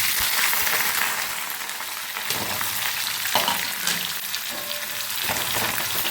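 Chopped onions fry in hot oil for chicken khichdi, a loud and continuous sizzle with occasional stirring scrapes and knocks against the pan.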